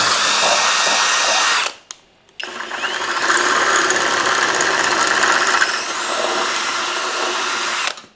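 Power drill boring a hole during a T-bucket hot rod build, a loud high whine that cuts out briefly, then spins up again and runs steadily for several seconds before stopping.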